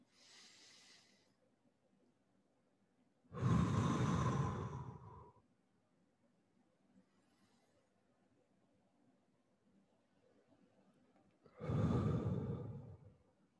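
Slow, deep breaths during a tai chi exercise, one faint breath followed by two long, loud, close breathy exhalations separated by quiet pauses.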